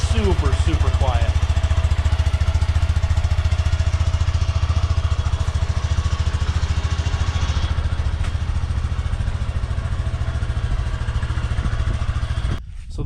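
Honda Grom motorcycle fitted with an AODONLY titanium dual exhaust, idling close by with a steady low, even putter that barely changes, cutting off abruptly near the end.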